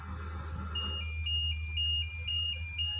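A phone ringtone plays a repeating electronic melody of stepped high tones, steady and fairly loud over a low constant hum, with no voices.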